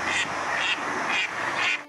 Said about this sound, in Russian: Это голос утки.